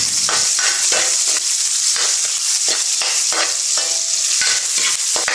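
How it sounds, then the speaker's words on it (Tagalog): Garlic, onion and ginger sautéing in a hot pan, a steady loud sizzle broken by repeated scraping stirs at an irregular rhythm, close up with no voices. "igigisa muna natin yung bawang at saka yung sibuyas"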